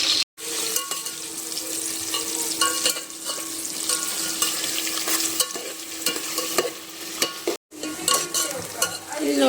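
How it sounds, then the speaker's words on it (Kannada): Onions frying and being stirred in a pan give a close, steady sizzle with scraping stir strokes, broken by two brief pauses. "ಇಲ್ಲಿ ನೋಡಿ, ಈರುಳ್ಳಿ ಫ್ರೈ ಆಗ್ತಾ ಇದೆ"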